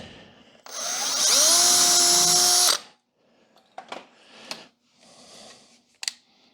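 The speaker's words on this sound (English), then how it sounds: "Put that screw back in." A power drill drives a screw back into a shop cabinet in one loud two-second burst, its whine rising as the motor spins up. Sharp clicks and light knocks from handling the cabinet follow.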